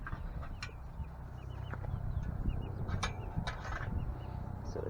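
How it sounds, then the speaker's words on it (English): Four-week-old light Brahma and barred rock chicks cheep and cluck softly in a chicken run, small scattered peeps over a steady low outdoor rumble with no talking. "here they are, 4 weeks old, enjoying the chicken run"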